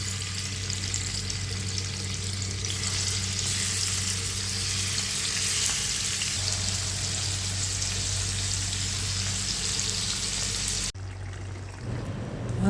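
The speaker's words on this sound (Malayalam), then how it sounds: "ഒരു ഫ്രൈ പാൻ വെച്ച് കുറച്ച് ഓയിൽ ഒഴിച്ചിട്ട് കറിവേപ്പില ഇട്ട് കൊടുത്ത് അതിലേക്ക് ചെമ്മീൻ ഇട്ട് ഫ്രൈ" Prawns fry in oil with curry leaves in a frying pan, a loud, sustained sizzle under a low steady hum that cuts off abruptly near the end.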